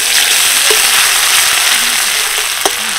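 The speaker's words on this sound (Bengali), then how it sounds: "হালকা একটু নেড়ে চেড়ে নেব" Spices, curry leaves and grated ginger crackle loudly in hot oil and ghee, a dense continuous sizzle with a few scraping stirs and a sharp clink of a spoon against the pan, no voices.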